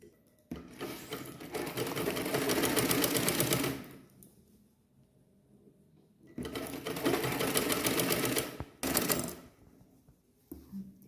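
A sewing machine stitches a blouse collar joint in two long motorized bursts of rapid needle chatter, with a brief third burst and short pauses between runs; close and steady, no talking.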